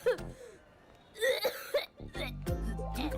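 A person coughs several times in harsh bursts, with a throat-clearing quality between them, mixed with other voices and background sound.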